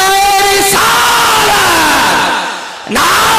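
A crowd at a religious gathering roars a slogan response in unison. The massed voices are loud and sustained, swelling and then fading briefly before another shouted burst rises near the end.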